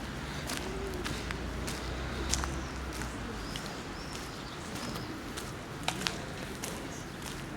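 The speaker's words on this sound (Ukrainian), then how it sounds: "з утра активізуються е, птахи, співають дуже гарно, багато їх" Birds call and chirp in short scattered bursts at a distance on a quiet morning path, over a soft steady outdoor background with an occasional footstep.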